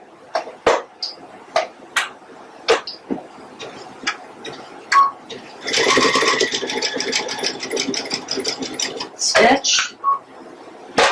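A sewing machine stitches a winter bench pillow. Scattered ticks and clicks come first, then a sustained mechanical run of a few seconds, followed by more sharp clicks.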